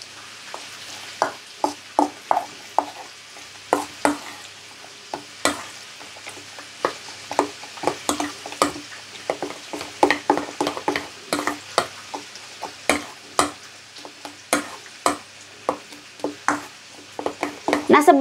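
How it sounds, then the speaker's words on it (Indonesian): A spoon stirs a shrimp filling mixed with egg in a bowl, making a rapid series of close, sharp clicks and scrapes that grow busier toward the end, with no talk. "Kita aduk dulu."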